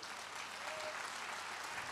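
Audience applause at a church retreat inauguration gathering, a steady, dense clapping from a crowd filling the space without pause, fairly distant and even in loudness.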